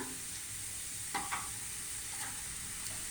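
A sweet rolled mixture is stirred in a pan with a little ghee over the heat, with a soft continuous sizzle and a few brief scraping strokes, close and quiet, with no talking.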